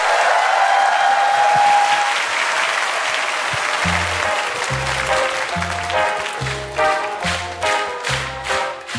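Audience applause fills a Korean TV music show studio as a singer is introduced to sing, loud sustained clapping with crowd noise, while a rhythmic low beat of music kicks in partway through beneath it.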